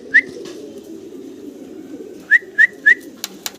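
A pair of young black Danish pigeons keeps up a low, steady cooing. A few short, sharp whistled chirps cut in near the start and again in a quick run of three toward the end.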